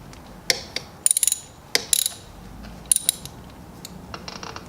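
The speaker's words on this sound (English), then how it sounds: "we'll get our 13mm socket, place it on there" A 13mm socket ratchet tightening the oil drain bolt on a 2018 Benelli TNT 135 motorcycle, several short bursts of sharp clicking pawl ratchets, close and crisp, separated by brief pauses.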